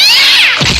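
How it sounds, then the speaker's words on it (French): A pet cat lets out a loud, close meow with a high, drawn-out wavering cry that drops into a short lower note at the end, heard alone with no talking. "J'ai envie juste d'éclater mes chats qui font du bruit en attendant."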